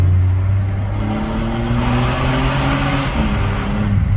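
Jaguar F-Type SVR engine revving hard and bouncing off the rev limiter, a loud, close, sustained high-rev drone with steady pulsing harmonics and no talk over it.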